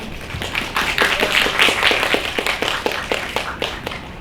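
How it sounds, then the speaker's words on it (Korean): A Korean film-screening audience claps for three directors, a steady patter of many hands rising quickly and holding at moderate loudness for a few seconds, nearby and without speech. "새 작품의 감독님 세 분 지금 자리 함께 하셨는데 박수 좀 부탁드릴게요"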